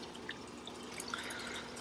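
Water trickling steadily from the small overflow of a lily-filled koi pond into a neighboring tank after rain, a soft continuous outdoor wash with faint drips on top, low and even throughout.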